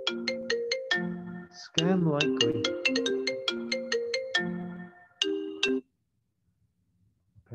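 A melodic phone ringtone plays a repeating sequence of bright electronic chimes, loud and close, for about six seconds before cutting off to near silence, with a brief spoken phrase overlapping it.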